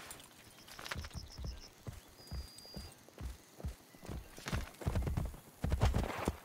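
Horses trotting in Assassin's Creed Brotherhood, a quiet clip-clop of hooves that grows louder and heavier toward the end, with a brief whinny early on.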